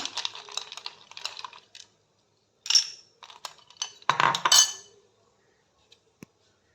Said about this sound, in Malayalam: ഗ്ലാസ്സിലൊരു 2 ക്യൂബ്സോ 2-3 ക്യൂബ്സ് ഐസ് ക്യൂബ് ഇട്ട് കൊടുക്കാം